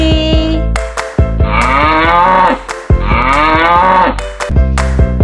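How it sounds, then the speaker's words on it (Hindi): Several loud, drawn-out cow moos follow one another in close succession, each a deep bellow that rises and falls, with short pauses between calls and no other sounds around them. "काऊ, काऊ मीन्स गाय।"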